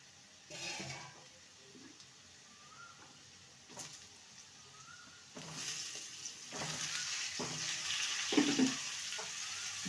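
Ridge gourd pieces frying uncovered with moong dal in a pan: a soft sizzle that grows louder, with occasional clinks and scrapes of stirring.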